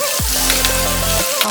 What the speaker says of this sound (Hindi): now add ginger garlic paste और थोड़ा सा अपने फिश को और एक बार थोड़ा फ्राई कर लीजिए